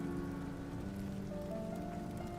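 Soft, steady rainfall played from a background video, a quiet even hiss of drops with faint sustained tones running underneath.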